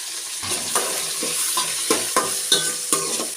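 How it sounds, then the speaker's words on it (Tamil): Ginger garlic paste sizzling in a hot pan, with a steady frying hiss and regular scraping stir strokes, about seven or eight of them, close and clear. "இஞ்சி பூண்டு பேஸ்ட் அரைச்சிருக்கேன் வச்சுருக்கேன் இதை வந்து சேர்த்துக்கலாம்"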